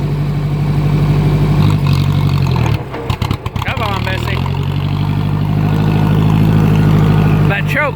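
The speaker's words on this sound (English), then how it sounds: "If I get that choke right where it needs to be, it'll quit sputtering like that." A 2010 John Deere tractor engine runs in a steady low drone, then stumbles and cuts out briefly in the middle, sputtering on a poorly set choke before settling back into an even idle.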